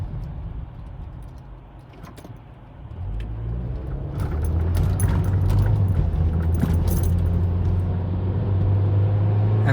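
A car travels westbound on the Ventura Freeway with a low engine and road rumble that grows louder after a few seconds and settles into a steady drone, while something light jangles inside the cabin.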